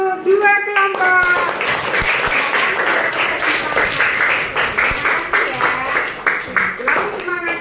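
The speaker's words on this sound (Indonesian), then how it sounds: "tepuk tangan untuk dua kelompok" A classroom of children claps rhythmically and loudly for two student groups for several seconds, with a few voices calling out over the applause.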